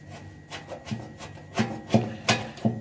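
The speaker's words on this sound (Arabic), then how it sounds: "فكينا الصامولة كمان بنفك المفتاح على الآخر." A wrench loosens the nut on a gas oven valve with a series of short, rhythmic metallic scraping turns. The turns are close and moderately quiet and grow slightly stronger toward the end.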